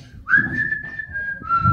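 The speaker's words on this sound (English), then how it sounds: "he's whistling the theme to The Harder They Fall" A man whistles a sustained melodic tune, a bright steady tone that glides up and holds with a brief pitch drop, close and clear over faint background noise.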